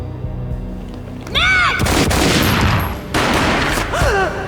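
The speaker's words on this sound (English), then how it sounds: "A gunshot boomed and she fell down in slow motion." A sharp gunshot blast from the video game Max Payne cuts in, followed by a dense stretch of loud, overlapping explosive noise with rising and falling whooshing tones, like game combat effects.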